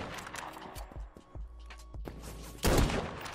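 Gunshots in the browser shooter Krunker.io: a few sharp scattered shots followed by a loud heavy blast near the end, close and punchy over a low game backdrop.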